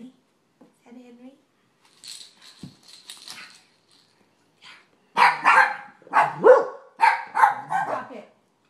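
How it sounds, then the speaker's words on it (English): A dog lets out a rapid run of loud, close barks after a quieter opening with faint yips and a voice speaking softly. "He didn't even jump until Henry barked."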